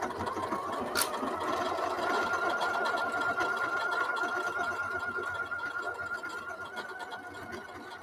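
A sewing machine stitches fabric straight over a pin with a continuous rapid mechanical chatter, close and even, tapering slightly toward the end, with one brief sharp click early on.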